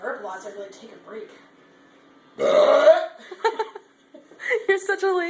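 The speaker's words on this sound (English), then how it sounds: "I just have to burp lots." Burping after drinking Sprite mixed with banana: a loud, long belch sits in the middle, surrounded by chatter and laughter from people nearby.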